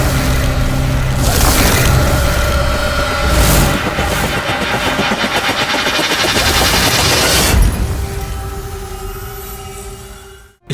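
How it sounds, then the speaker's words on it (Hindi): Loud, sustained bursts of rapid gunfire blend with a heavy rumbling din for several seconds before cutting off abruptly. "चलाओ बिंदिया, गोली चलाओ"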